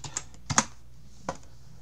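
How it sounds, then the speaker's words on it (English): Keystrokes on a computer keyboard while entering text to open video editing software, a few separate clicks spaced unevenly, close and fairly crisp against a quiet room. "What you're going to do then is type in open"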